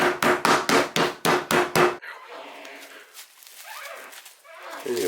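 Hammer pounding butterflied chicken laid between sheets of plastic wrap: eight loud, rapid, evenly spaced thuds up close, followed by quieter rustling and handling of the wrap.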